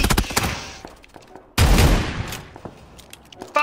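Gunfire in PUBG: a burst of shots opens, then a loud heavy volley with a low boom near the middle, followed by scattered quieter bangs and a final sharp shot.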